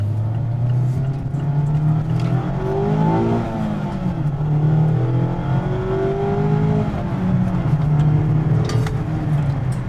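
A 2020 Mazda MX-5 Miata RF with the top up accelerates hard through the gears. The engine note climbs steadily and falls at each shift, heard from inside the cabin, loud and continuous throughout.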